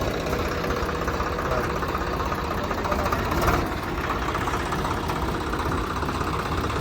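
A modified Swaraj 735 tractor engine idles with a steady, rough rumble that stays loud and constant throughout, briefly swelling partway through.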